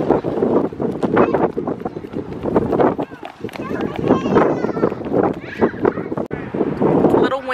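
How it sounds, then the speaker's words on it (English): Strong gusting wind buffets the microphone in loud, rumbling bursts, with a voice speaking over it throughout. "It's a little windy out."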